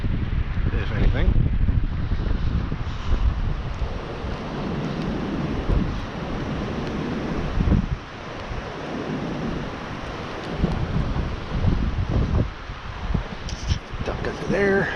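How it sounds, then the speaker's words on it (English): Strong wind buffets outdoors along the Roanoke River, rumbling and gusting against the microphone, with low talking faintly underneath. "It's windy today. Holy cow. Quite windy."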